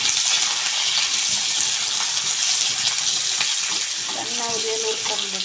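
Onion frying in a pan for a bitter gourd curry, producing a loud, steady, hissing sizzle throughout with a few light stirring clinks near the end.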